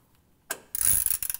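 A ratchet tightens the plug on the aluminum transfer case of a Ram 2500 4x4: a single click, then a quick close run of sharp pawl clicks over about half a second, with no talking.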